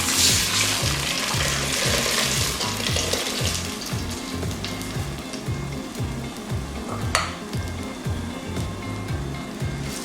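Blended tomato, onion, pepper and red chili paste fries in palm oil for a Yoruba stew, a loud, continuous sizzle with rhythmic stirring scrapes and a sharp clink near the end.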